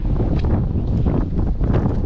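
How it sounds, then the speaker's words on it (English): Strong, gusty wind of about 15 to 20 mph blows at the beach at Fort Fisher, North Carolina, where whitecaps break offshore. Loud, rough buffeting fills the whole span with no talking. "It says the wind is 15 miles per hour and there's wind gusts of 20 miles per hour."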